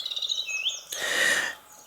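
Small birds chirp and trill in a cottage garden of herbs, flowers and trees, several high tweets followed by a louder burst of overlapping song, fairly close and with no voices.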